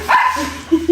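A dog gives a short close bark followed by a couple of quick yips or whimpers, all within about a second.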